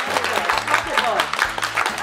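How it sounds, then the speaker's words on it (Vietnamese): A group of people applauding at a family gathering, a steady patter of clapping with speech running over it throughout. "Một tràng vỗ tay"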